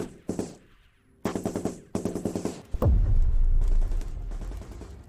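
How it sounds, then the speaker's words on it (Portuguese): A machine gun nest fires in several short, sharp bursts of rapid shots, followed by a heavy booming impact and a lingering rumble, loud and close with no voices. "Um ninho de metralhadora dispara contra nós, seus tiros de slugger ricocheteando em nossa armadura Terminator"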